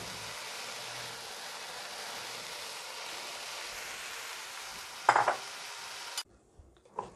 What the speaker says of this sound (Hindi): अब आखिर में नूडल्स डाल देंगे।